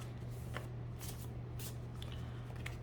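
Tarot cards being shuffled in a room with sage burning, a few soft papery riffles and flicks over a steady low hum, fairly quiet with no talking.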